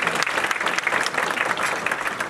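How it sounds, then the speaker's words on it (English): Audience applause for Steve Retoff at a gala, a steady dense clapping from a crowd that fills the room evenly and fairly loudly for a couple of seconds. "A round of applause for Steve."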